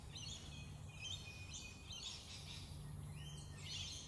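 Birds chirp and tweet in a quiet outdoor setting. Short, faint calls come and go at a distance over a soft, steady background hum.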